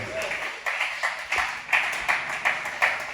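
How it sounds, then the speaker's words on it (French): A church audience claps in praise of God, a steady run of sharp, fairly even handclaps that rise and fall under light background noise. "Acclamons notre Dieu, c'est bien acclamons."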